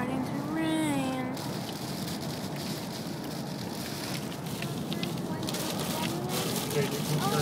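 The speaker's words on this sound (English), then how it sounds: "Now it's starting to rain." Steady rain patters and hisses throughout, with people talking over it nearby.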